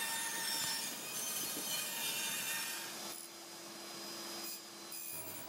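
Scrap plywood being rough-cut into two 10-inch circles with a power saw, a steady loud rasping whine that runs continuously and shifts in pitch partway through, with no speech.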